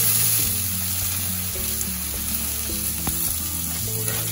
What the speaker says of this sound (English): First thing we got is some coconut oil in the pan, all hot, and some peppers and onions.